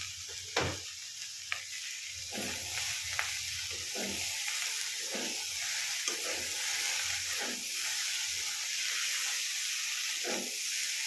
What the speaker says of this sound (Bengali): দিয়ে দেবো ক্যাপসিকাম, দিয়ে দেবো মাশরুম, দিয়ে এবার এগুলোকে ভালো করে সব একসঙ্গে মেশাবো